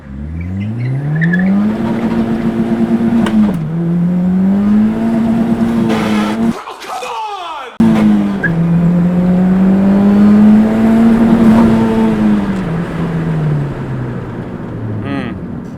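A budget Honda Civic EG with a K23 turbo swap pulls hard from a stop, the engine revving up and dropping with each shift, with a brief cut in sound and some fumbled shifts, loud and close from inside the car.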